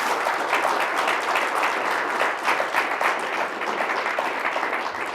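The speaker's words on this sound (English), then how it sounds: "Now you should applaud" Audience applause at the close of the Signatures Series interview with Sarah Jennings, steady and dense across the room, a continuous wash of many hands clapping with no pause.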